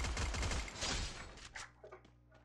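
Rapid bursts of gunfire in the video game Free Fire crackle in quick succession, dense at first and then thinning into a few scattered, fainter shots.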